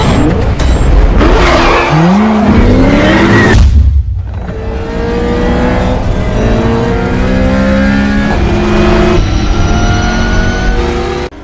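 Cars race in the Need for Speed video game: loud engines rev and accelerate up close with rising whining tones and a tire screech, a brief drop-out, then several cars roaring on together.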